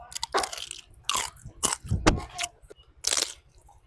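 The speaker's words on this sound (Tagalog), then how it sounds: "Siyempre, una natin titikman dyan yung balat. Ano lutong?" Crunchy bites into freshly roasted, crispy lechon pork skin, several loud crackling crunches in close succession heard up close, with brief chewing between them and no talk.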